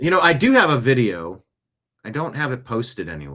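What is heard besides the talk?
None of the usual background noises is heard.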